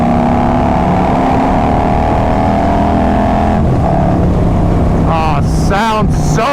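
Harley-Davidson Road Glide motorcycle with carbon fiber wheels, engine droning loud and steady under riding wind, pitch shifting as it pulls through revs, with a voice speaking over it near the end.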